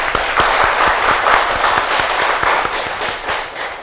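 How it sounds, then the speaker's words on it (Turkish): A studio audience at a live Turkish television broadcast gives loud, dense, steady applause, many hands clapping rapidly and continuously with no talking. "Evet, alkışlar."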